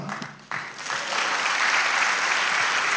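Applause from an audience at a church gathering swells from scattered claps into a sustained, dense ovation that holds steady and loud to the end.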